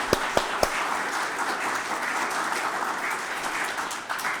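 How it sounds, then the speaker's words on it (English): A crowd at a poetry bookshop oral history event applauds, opening with a few sharp individual claps before settling into steady, moderately distant clapping from many hands that holds for several seconds. "Let's give an applause to James."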